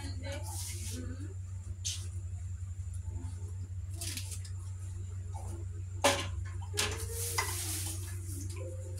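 Eggplant frying in a pan gives off a soft, steady sizzle under a low constant hum, broken by several sharp clinks and scrapes of a utensil against the pan, with people talking nearby.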